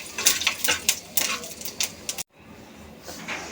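Whole spices, a dried red chilli, cardamom, cinnamon and cumin seeds, frying in a pan for a home-style fish curry, with crackling, sputtering and light clinks of utensils, close and moderate, then a brief drop and quieter sizzle.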